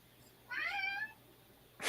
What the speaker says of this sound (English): A cat has found its way on your plane.